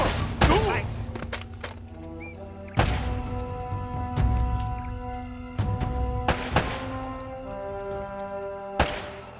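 Enemy gunfire in the video game Uncharted: Drake's Fortune, heavy shots and impacts landing as several sharp loud bursts spaced a second or two apart over ringing, sustained game music.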